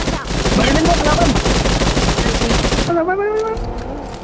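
Automatic weapon fire rattles in a dense, rapid burst of shots during a PUBG Mobile fight, loud and continuous for a few seconds before cutting off as a voice starts talking.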